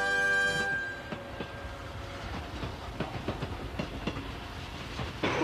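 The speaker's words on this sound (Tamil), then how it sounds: "சிஷிமாருவின் ட்ரெயின் அட்டகாசங்கள் டிங் டிங்" A train rumbles past with rhythmic clickety-clack of wheels on rails and a brief horn tone at the start, fairly close and loud.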